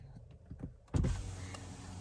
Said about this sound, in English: So what I'll do is I'll lower the window